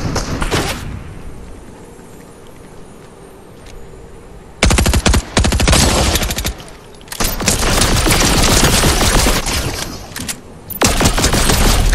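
Machine gun fire in a battle royale video game, loud sustained automatic bursts close by, separated by quieter stretches of ambient noise at the start and in the middle.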